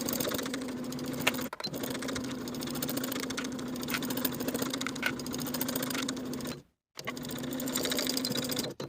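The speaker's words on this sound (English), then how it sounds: "Sew straight across both of those cuff seams with a 1/2 inch seam allowance" A sewing machine stitches across the cuff seams of a linen shirt, a fast steady mechanical whir running close and continuous, with one brief pause near the end before resuming.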